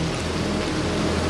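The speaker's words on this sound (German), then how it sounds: "Und es regnet immer wieder." Rain drums steadily on a tarp shelter during a thunderstorm on an Alpine crossing, a dense close patter with no pause and no voices.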